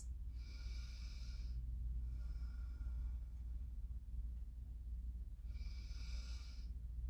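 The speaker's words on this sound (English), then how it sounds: "Nice deep breaths." Slow, deep nasal breathing during seated chair yoga, two long airy inhales or exhales a few seconds apart, soft and close over a low steady room rumble, no talking.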